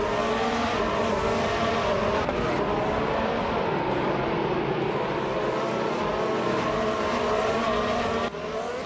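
A Mercedes race car's engine drones steadily in a racing video game, with harmonic whine lines holding loud and continuous throughout, the pitch shifting slightly as the car runs laps.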